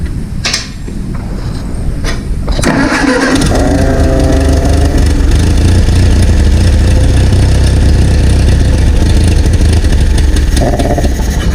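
A vintage tractor engine running on mystery oil sputters, catches and settles into a loud, rough idle, a continuous low rumble with uneven knocks heard close by, no voices.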